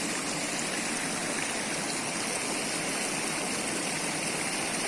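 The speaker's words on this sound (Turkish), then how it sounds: "Saatlerdir böyle akay bu dere ya." A stream in Güneysu runs steadily with a dense, even rush of flowing water, close and continuous for the whole stretch with no voices.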